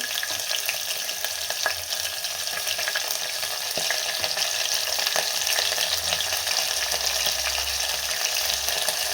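Green chillies for cooker masale bhat fry in hot oil in a pan, giving a steady, close, bright sizzle with scattered crackles and pops throughout, no talking.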